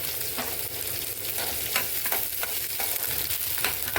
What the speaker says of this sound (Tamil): நான் சின்ன வெங்காயம் போட்டிருக்கேன் இது கொஞ்சம் ப்ரௌனாக வதங்கட்டுங்க